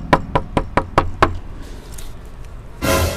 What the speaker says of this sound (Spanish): ¿Y ahora quién estará tocando la puerta justo cuando me voy a bañar?